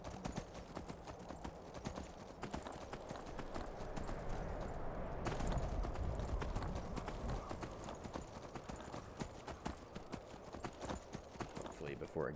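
Horse hooves galloping in the video game Skyrim, a steady fast clip-clop close up over a constant wind-like background rush that swells briefly midway.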